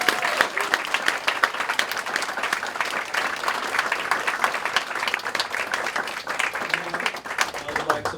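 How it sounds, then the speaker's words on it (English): An audience at a poetry anthology launch applauds throughout, a dense, sustained patter of many hands clapping at moderate distance, holding steady before thinning slightly near the end. "can we have a big round of applause?"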